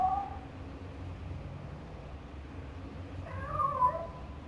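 A cartoon cat meows in the Over the Hedge: Hammy Goes Nuts PSP video game: a short mewing cry at the start and a louder, drawn-out meow near the end, over a low murmur of game background sound.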